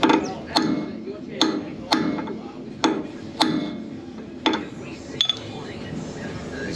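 A brass drift struck on a Land Cruiser 70 Series swivel hub during a rebuild, about nine sharp metallic hammer blows at an uneven pace, some doubled, ringing close in a workshop.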